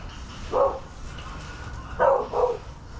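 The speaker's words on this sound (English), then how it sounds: "Oh, dogs are going nuts." Dogs bark in short bursts outdoors during camouflage spray-painting work: one bark, then a pause, then a quick pair of barks, moderately near. A low hum of background noise runs throughout.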